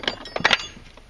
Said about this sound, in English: There goes a wrench.